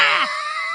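A voice imitates an over-the-top 1950s horror movie scream: one short, loud, shrill wail that slides downward and fades within a second, with no other talk.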